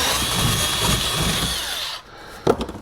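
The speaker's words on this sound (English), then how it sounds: "and then we're just going to drill a hole." A power drill bores a hole through the plastic air dam of a 2018 Chevrolet Colorado pickup, a close, harsh whirring grind for about two seconds, followed by a stop and a few light plastic clicks.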